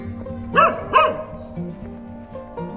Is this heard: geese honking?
no